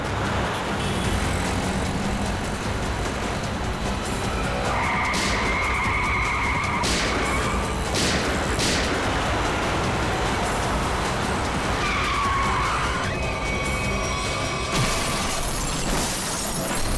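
Cars skidding on a road in a tense crime-drama street scene, with two long high tyre squeals over loud continuous traffic rumble, plus crashing, breaking bursts near the middle.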